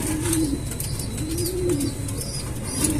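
Racing pigeons, inbred hens in a breeding loft, coo in repeated low rolling calls, steady and close, with no talk.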